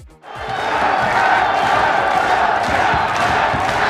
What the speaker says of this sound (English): Then he gets the crowd to all chant Strong